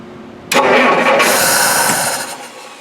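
A 1946 Dodge Business Coupe engine, with a freshly rebuilt carburetor, turns over and catches with a loud, sudden burst. It roars steadily for about two seconds, then begins to settle. It is heard up close with no talk.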